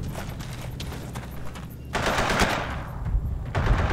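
Gunfire in the World War II game Forgotten Hope 2 during the invasion of Crete, a burst of loud close machine-gun fire followed by further shots over constant battlefield noise.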